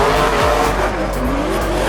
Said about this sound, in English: Up now we have Mads Andreasen taking the back off of the car on his first run.